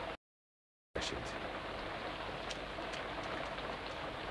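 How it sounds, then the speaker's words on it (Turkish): Heavy rain pours steadily in a dense, continuous hiss with scattered close drop ticks, starting after a brief silent gap at the beginning. "Yağmur da iyi bastırdı."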